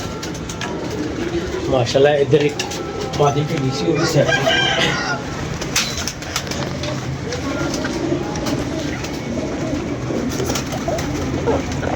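Pigeons kept in a home loft coo in low, repeated throaty calls close by, partly under a voice talking over them.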